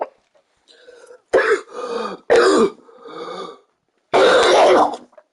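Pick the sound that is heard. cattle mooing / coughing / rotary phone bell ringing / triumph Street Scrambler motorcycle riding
coughing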